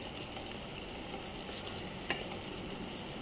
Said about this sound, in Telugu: 1 స్పూన్ ధనియాల పొడి, 1 స్పూన్ జీలకర్ర పౌడర్ వేసి ఈ విధంగా కలుపుకుందామండి